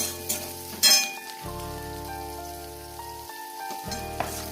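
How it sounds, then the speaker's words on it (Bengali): Carrots frying in a wok with a little salt, a steady near sizzle broken by a loud stirring clatter and a short pause. "ভেজে নেবো গাজরটা"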